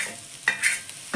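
Kashmiri chilli, ground coriander, ground cumin and garam masala frying in a pan over low heat for a banana-flower chop filling, a brief close sizzle with a few quick spatula scrapes and stirs.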